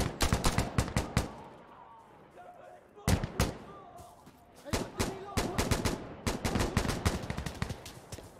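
Incoming mortar fire and gunfire in Insurgency: Sandstorm, a dense run of sharp loud blasts and bursts, some close and some further off, with someone talking in between.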